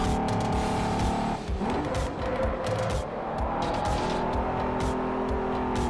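Race car in Forza Motorsport 4 with its wheels locked under heavy braking, a loud engine drone with a skidding screech, then the engine pulls hard again, close and continuous throughout.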